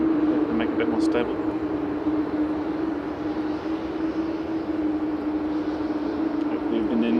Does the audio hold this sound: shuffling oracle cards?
no